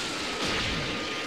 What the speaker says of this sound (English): Gallic Cannon, non-charged.